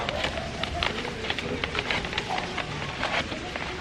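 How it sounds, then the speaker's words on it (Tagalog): Light rain falls outdoors at a plant seller's clearance sale, a soft, steady patter with scattered sharper drops and faint ticks against surfaces, low in level and continuous throughout. "Okay lang hanggat hindi pa lumalakas ang ulan."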